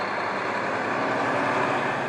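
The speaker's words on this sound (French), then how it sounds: "il faut près de 19 mètres à ce semi-remorque pour finalement s'immobiliser" Semi-trailer truck braking to a stop from 50 km/h, a loud broad steady roar of engine and road noise throughout, with no talking.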